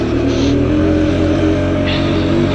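A Sherco TY125 trial motorcycle with a tiny engine revs steadily and loudly up close, holding a constant, dense mechanical drone with no voices.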